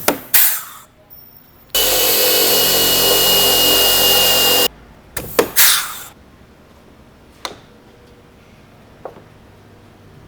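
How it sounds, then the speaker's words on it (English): A rivet tool sets a PC 000-102 rivet into a steel door pillar: a sustained loud mechanical whir for about three seconds, surrounded by sharp clanks and clicks, then a few scattered faint taps. "Then rivet in place using a PC"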